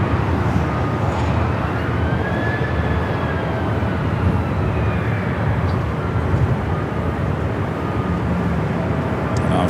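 A 27-year-old Delta Boeing 767-300ER rolls down runway 24 Left at LAX on its takeoff run, a loud, continuous broadband jet roar holding steady throughout with a faint rising whine above it.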